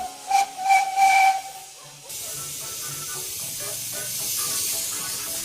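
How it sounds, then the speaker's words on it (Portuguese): An antique wood-fired steam engine gives a few short, loud whistle-like bursts, then settles into a steady, close hiss of escaping steam. "E quando a água é aquecida, se torna em vapor."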